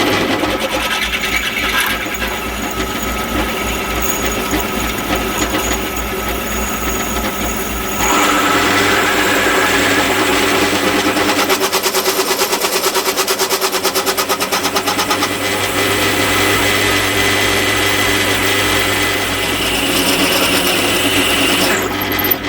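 A small pillar drill bores through steel while an engine stand is being built, giving a loud, steady whirring grind that runs continuously and grows slightly harsher partway through.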